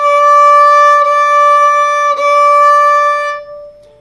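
A single sustained bowed violin note, D on the fourth staff line, steady and bright with rich overtones, with two slight bow changes before it fades out at the end.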